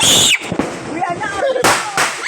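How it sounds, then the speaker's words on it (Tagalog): New Year's Eve fireworks crack and burst nearby in sharp separate bangs, with a crackling tail and whistling streaks between them, while people talk close by. "Sa mga fireworks."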